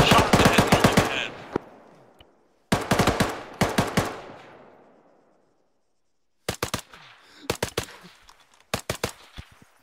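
Automatic gunfire in a military shooter video game set in Syria: three separate volleys of rapid, loud, close shots, each followed by a fading echo, with near silence between the first two bursts.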